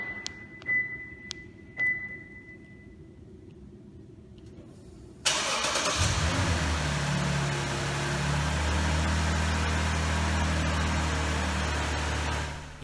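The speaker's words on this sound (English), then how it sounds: "To start the vehicle, simply press the lock button 3 times on the factory key fob." A 2014 Lexus GS350 starts remotely from its key fob: a few faint clicks and chirps, then the engine cranks and catches, settling into a steady, close idle that continues to the end.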